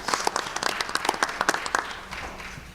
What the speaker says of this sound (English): So a round of applause for all of those.